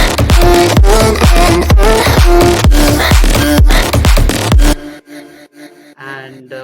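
Layered percussion one-shots from an electronic music drop, loud punchy hits in a fast regular rhythm with a deep low end, then cutting out to a sparse quiet tail.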